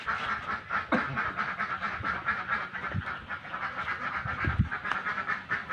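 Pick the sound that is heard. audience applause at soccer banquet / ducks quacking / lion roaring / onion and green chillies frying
ducks quacking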